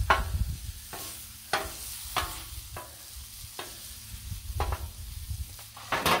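Mushrooms and vegetables fry in butter on a Blackstone griddle, a steady close sizzle broken by about eight sharp spatula scrapes at a loose, uneven rhythm, with no talking.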